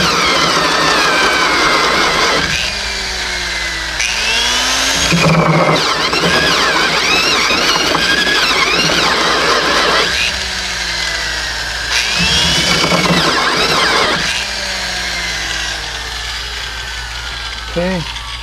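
A tenon cutter spins on a log being shaped for a log fence, a steady mid-pitched power-tool drone that surges louder in bursts as pressure goes on the blades, with a person talking over it.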